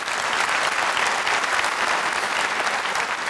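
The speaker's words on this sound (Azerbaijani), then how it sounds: "Bizim həkimlərimiz bir alqışlayaq" A comedy concert audience applauds the doctors in the hall, a dense, even burst of many hands clapping at once that keeps going steadily at full strength from start to end.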